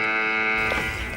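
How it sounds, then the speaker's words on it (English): Alarm buzzer sounding a steady, piercing electronic tone at close range, holding for most of a second before fading slightly as a low rumble rises beneath it. "Alarm!"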